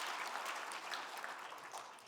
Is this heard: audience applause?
yes